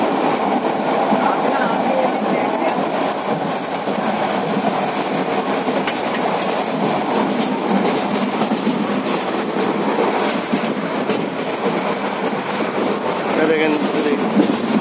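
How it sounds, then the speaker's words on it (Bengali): A Korean-built passenger train runs between Dhaka and Cox's Bazar, a steady rolling rumble with faint rhythmic wheel clatter heard from inside the carriage, with people talking over it. "স্মুথ যাচ্ছে, কোনো ঝাঁকিও নাই ট্রেনে।"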